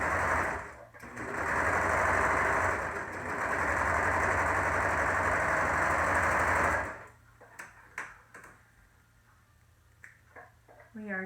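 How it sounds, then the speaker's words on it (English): A sewing machine sews across a modified Olson face mask, running loudly and steadily for several seconds before stopping. Faint handling sounds follow. "Then sew across."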